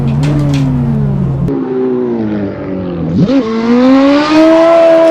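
A Ferrari F430 Scuderia in the video game Assetto Corsa drives close and loud, its engine note rising through the revs, dropping at a gear change, then climbing again.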